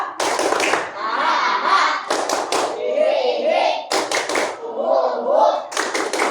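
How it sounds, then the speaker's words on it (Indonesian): A primary school class claps out the "tepuk bahagia" rhythm, sharp grouped bursts of hand claps separated by short gaps in which a teacher and children chant the pattern together. "Kalau senang kita tepuk bahagia."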